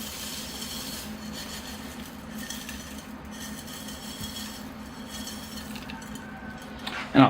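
Bonsai soil being poured into a pot over drainage screens, a soft gritty rustling and trickling that runs steadily at close range, ending in a brief louder clatter.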